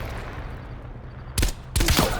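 Gunfire in the game Call of Duty: Black Ops Cold War: two sharp, loud bursts of shots about half a second apart, cracking over a steady low rumble of game ambience, with no one talking.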